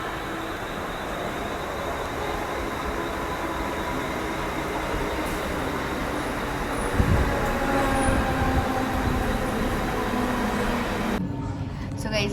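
A train rolls on with a steady, loud, broadband rumble throughout, and faint voices sit beneath the noise.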